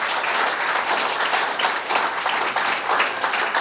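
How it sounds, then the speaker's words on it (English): Warm round of audience applause at a pro cycling team announcement, dense steady clapping from a crowd sustained throughout, close and even with no voices on top. "give them a warm round of applause"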